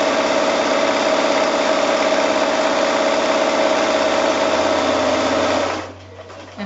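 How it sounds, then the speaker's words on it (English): A sewing machine stitches around a bag made from fat quarters, a loud, steady, close whir that runs continuously and then stops abruptly near the end. "I'm going to sew all the way around till I get to nearly back to the beginning."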